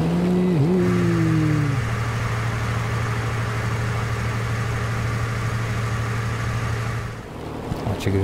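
A warplane engine in World of Warplanes starts with a rising whine, then settles into a steady droning hum that stays loud and even before fading out near the end.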